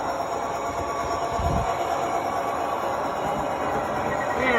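Several model trains run together on a layout, making a continuous rolling, rattling hum with faint clicks, heard close and steady with no talking.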